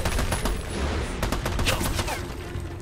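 Rapid automatic gunfire rattles on without pause in the video game Army of Two. Bursts are loud and close, with a dense mechanical clatter.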